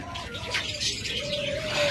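Doves (ghughu) at a bird seller's with lovebirds, Java sparrows and cockatiels nearby, giving a mix of soft coos and brighter chirps, close and continuous with no voices.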